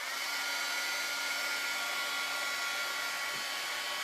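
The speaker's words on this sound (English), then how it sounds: "so I'm just going to hit it with a dryer" A hair dryer blows steadily and close on a still-wet craft project of cut-out paper marshmallows, a continuous loud whooshing hum with no talk.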